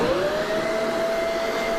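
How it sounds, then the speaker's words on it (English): A household vacuum cleaner runs close and loud with a steady whooshing roar and a whining motor tone that rises slightly at the start, then holds constant. "we are going to, yes, test it on my vacuum"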